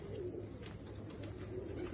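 A pigeon and its paired female coo softly in low, continuous burbling tones, quiet but steady across the moment with light rustling.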